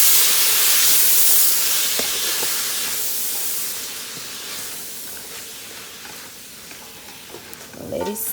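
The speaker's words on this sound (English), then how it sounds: "Let it steam a little." Cabbage steaming and sizzling in a frying pan, a loud hiss that slowly fades, followed by a few stirring scrapes near the end.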